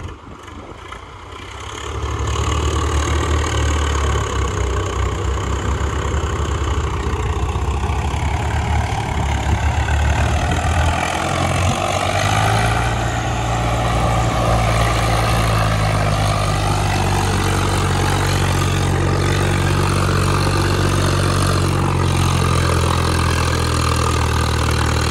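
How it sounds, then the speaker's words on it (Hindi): A Swaraj 744 tractor engine idles close by, a steady low diesel rumble that starts up after a brief quiet moment and holds constant. "744 वो लोडिंग हो गया है और अभी चलेगा"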